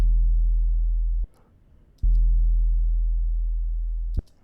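A deep, clean 808 sub-bass tone, dry without saturation, booms twice, each note starting sharply and sustaining with a slow fade before cutting off, with no distortion.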